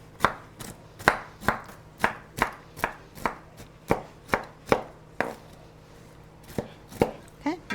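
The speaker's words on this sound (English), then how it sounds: "Just gonna chop these up." A knife chops walnuts on a cutting board in a kitchen, making a steady series of about eighteen crisp, close knocks at a quick, slightly uneven pace, with no talking.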